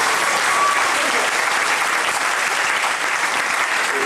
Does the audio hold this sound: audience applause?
yes